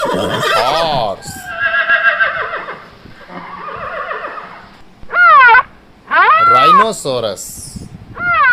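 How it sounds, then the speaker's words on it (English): Horse neighing and whinnying, several loud, close calls with a trembling, descending pitch, the later ones in strong separate bursts with short pauses between. "Horse."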